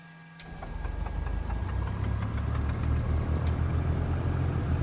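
A Duchess Model 76 aircraft piston engine in the X-Plane 12 flight simulator cranks and catches, then settles into a steady, rough rumbling run with a ticking, knocking rhythm.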